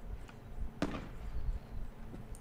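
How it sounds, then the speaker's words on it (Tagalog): Fireworks in the video game Raft give one sharp, fairly loud crack-like pop with a short burst of crackle after it, over a faint steady game background. "Fireworks."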